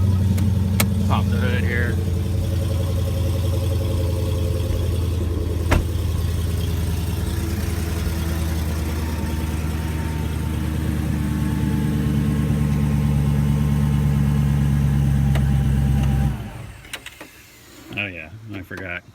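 A Dodge Hellcat fitted with a new supercharger runs at a steady, loud idle while a person talks over it, then the engine cuts off abruptly near the end, leaving faint noises.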